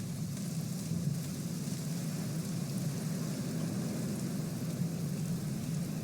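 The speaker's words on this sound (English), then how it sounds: "Don't mind the rain, it's fine." Rain falls as continuous ambience in The Black Mirror video game, a steady low wash of hiss and patter at moderate volume with no voices.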